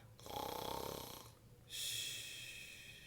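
A voice imitates a sleeping bear's snoring during a children's story reading: a long, rasping, rhythmic inhale, a brief pause, then a breathy drawn-out exhale, close and fairly soft.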